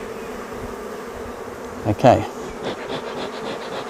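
Honeybees swarm around an open hive being smoked during a hive split, a steady close buzz with a few louder passes near the listener, and someone speaks briefly over it.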